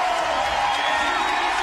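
A large crowd at the 2018 CrossFit Games final event roars and cheers in a continuous, dense wash of noise that stays loud and unbroken.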